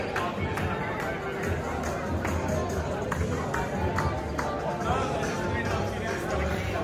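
Crowd in central Brussels dancing and clapping along to Arabic music, a dense, busy wash of bodies, claps and chatter that stays steady and loud throughout, with scattered sharp transients over a low rumble.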